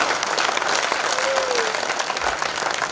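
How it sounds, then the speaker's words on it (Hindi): An audience at a poetry gathering in Vidisha, India bursts into sustained, dense applause, loud and continuous throughout with no voices on top. "आसमान भर तालियां विदिशा की हों इस बात पर"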